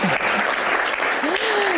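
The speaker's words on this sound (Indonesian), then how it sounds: "Tepuk tangan dulu dong," An audience applauds during a panel discussion, a steady wash of clapping throughout, with a voice speaking over it.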